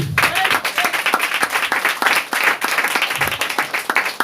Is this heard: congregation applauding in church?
yes